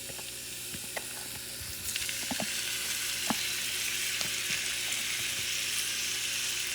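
Shrimp fry in hot oil with a steady loud sizzle, joined by scattered sharp pops and spoon stirs as the pieces are added to the pan.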